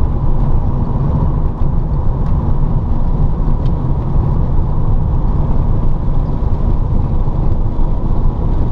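An electric-converted VW Beetle climbs a hill in third gear, drawing 350 to 400 amps. It gives a loud, steady drive noise of road and wind rumble with no engine note, and no one speaks.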